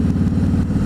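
A motorcycle ride with a steady, close engine drone and a rapid even pulsing throb, loud and continuous, with no voices over it.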